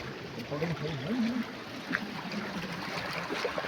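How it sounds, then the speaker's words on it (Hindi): Fast water rushes at a watermill in a continuous broad gush, heard close up beneath a person's voice humming or speaking lightly over it. "ये है पानी कितना तेज आ रहा है"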